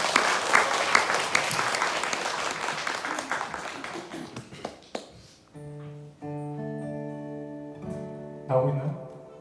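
An audience applauds at a memorial performance, with loud, dense clapping over the first five seconds thinning out as sustained instrumental tones begin to play.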